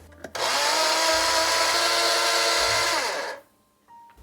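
Coffee beans ground in a makeshift electric grinder: a loud, close motor whir starts abruptly, holds steady for about three seconds with rattling beans, then cuts off and winds down.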